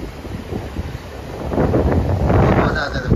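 Sea waves washing ashore at Digha beach, a steady broad wash that swells louder in the second half, with wind buffeting the microphone throughout.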